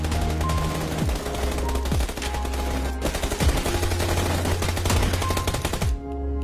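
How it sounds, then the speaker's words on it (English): Rapid bursts of shotgun fire in the PC game PUBG Lite, loud repeated blasts with a few sharp reports standing out over dense game noise, ending abruptly. "It's okay to go to ADS with other shotgun"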